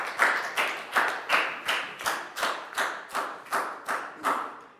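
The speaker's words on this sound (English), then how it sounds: "Big round of applause, please, guys." A Year 4 class claps in unison at school, about eleven evenly spaced sharp claps in a steady rhythm, fairly quiet and with no talking.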